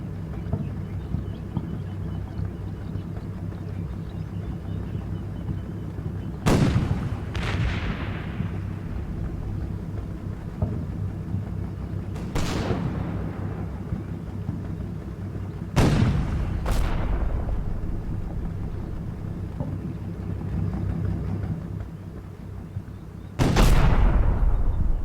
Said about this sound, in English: Germans are also shelling us now.